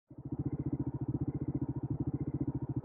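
Off-road motorcycle ridden westward across Algerian terrain, its single engine thumping in a steady, fast pulsing beat close up and fairly loud, holding an even throttle throughout with no voices.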